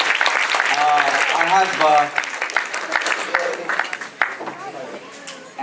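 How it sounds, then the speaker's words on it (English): A crowd applauds temple board members during a Hindu temple consecration ceremony in Dayton; a voice rings out at first, then broad clapping swells and carries on with scattered chatter beneath it. "please give a big round of applause to all of them"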